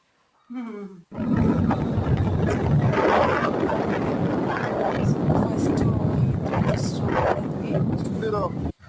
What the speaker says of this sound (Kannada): ಮಾಡಿವೆ ಸ್ಕೂಟರ್ ಹೋಗ್ತಾ ಇದೀವಿ.